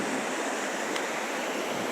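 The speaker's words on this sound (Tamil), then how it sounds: "தண்ணி செம்மையாக போகுதுங்க, சூப்பராக இருக்குது." Water rushes steadily through a stream sluice at Aathuparai near Pollachi, a dense, even broadband roar that stays close and constant with no voices over it.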